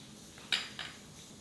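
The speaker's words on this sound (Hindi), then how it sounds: "मैं हनी मिक्स कर रही हूँ" Spoon clinking against a bowl while honey and milk are stirred into a thick face pack paste, two quick close taps in a quiet room.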